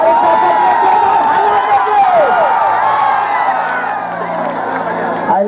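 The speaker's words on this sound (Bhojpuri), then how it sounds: "तो मैं चाहता हूँ कि जोरदार ताली बजे हमारे चाचा के" A large audience at a stage program in Bihar cheers and claps loudly, whoops and shouts rising over a sustained crowd roar while a voice sings or calls through it.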